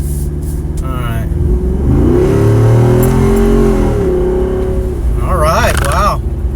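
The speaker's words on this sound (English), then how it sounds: "see if we just give it just a little bit of gas, see what it feels like" A Jeep Wrangler Rubicon 392 accelerates hard on a public road. A loud, steady engine roar rises in pitch as it speeds up, then eases off. People talk briefly near the end.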